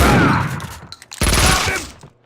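A short volley of gunfire in the video game Max Payne 2, with loud close shots in two bursts that die away to near silence.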